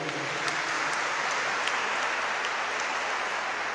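An audience at a Jubilee Year 2025 school event in the Archdiocese of Lahore gives steady, dense applause, a continuous wash of many clapping hands held at an even level from start to finish, with no voices.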